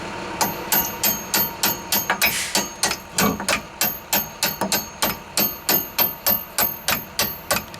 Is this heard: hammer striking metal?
yes